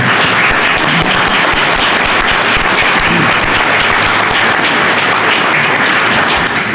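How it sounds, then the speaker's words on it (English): Loud, sustained applause from a large crowd at a council meeting, dense steady clapping filling the whole stretch without pause. "I think that's worth a round of applause, even."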